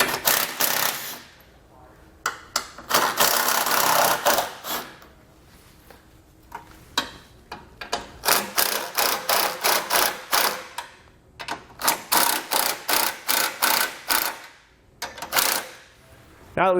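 A socket ratchet loosens bolts on a Roadmaster Direct-Connect base plate kit on a 2020 Jeep, giving loud, close bursts of rapid ratcheting clicks in repeated runs with short pauses between them.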